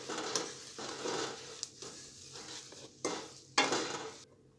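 A spatula scrapes and turns adadiya mixture with grated coconut in a hot pan after the gas is switched off. Repeated close, irregular stirring strokes ride over a soft sizzle, with sharper scrapes near the end and no talking.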